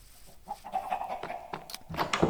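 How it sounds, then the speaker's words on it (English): Minecraft chickens cluck in short, scattered bursts, several quick calls close together over a few seconds with no talking. "These chickens make it so hard to edit when I'm building, because I edit to make sure the placing the block sound is in the building montage, but then they cluck,"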